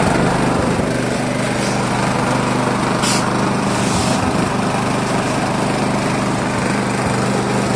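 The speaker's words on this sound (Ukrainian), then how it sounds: "після завода переводимо в положення робота, вся працює." A small inverter generator runs steadily after starting and being switched to work mode, a loud, continuous close engine drone with an even hum and no pauses, and no voices.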